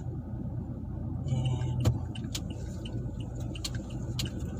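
Car driving along a street in the Philippines toward a car wash, a steady low road rumble and engine hum throughout, with sharp clicks and a brief spoken word partway through.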